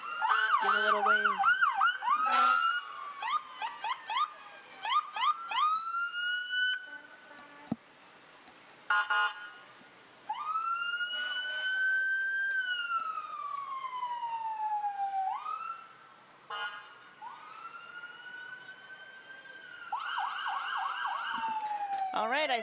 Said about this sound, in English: You need to hear those big, loud sirens to clear you out of the way